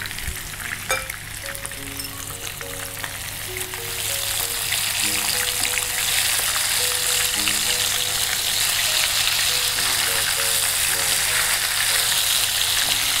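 Chicken pieces frying in oil in a pan, a soft bubbling that swells into a loud, steady sizzle and hiss, with faint clinks and murmured voices in the background.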